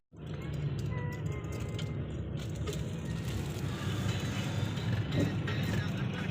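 A car rolls at a press club entrance with a steady, close road and engine rumble that runs the whole length, and a few faint sounds sit in the background.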